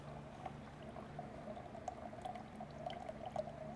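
Evapo-Rust rust remover is poured into a seized motorcycle engine that was left outside without spark plugs, a faint, continuous liquid trickle with small gurgles.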